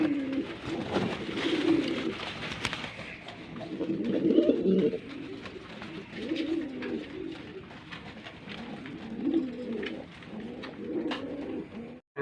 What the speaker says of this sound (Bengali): লক্ষা কবুতর আছে।